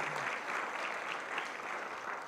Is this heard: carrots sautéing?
no